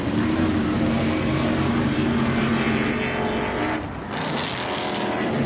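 An off-road race vehicle on Nitto tires drifts through a corner of the MetalCloak Stampede course, its engine roaring loud and steady throughout with a brief dip before picking back up.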